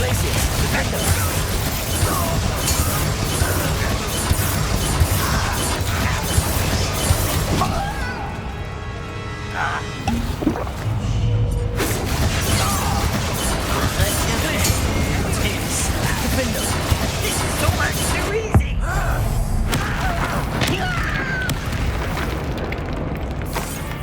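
Bombarda spell blasts in the video game Hogwarts Legacy, loud booming explosions and crashes erupting amid continuous combat noise, with voices speaking throughout.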